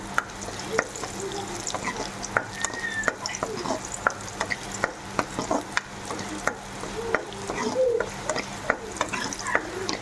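Curry leaves crackle and fry in hot oil for a tempering, a steady close sizzle broken by sharp popping ticks and occasional stirring scrapes, with no voices.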